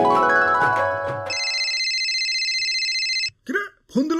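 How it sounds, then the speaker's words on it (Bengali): A phone ringtone sounds: a steady electronic tone, loud and close, holding for about two seconds before it cuts off. Short voice-like bursts follow it. "কিরে ফোন দিল কারা?"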